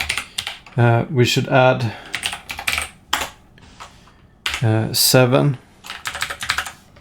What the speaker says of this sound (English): So I can't type today.